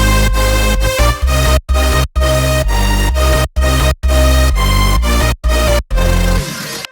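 A melodic future house track built in FL Studio plays with no drums, sustained bright chords and melody cut by several rhythmic gated pauses, loud and up front.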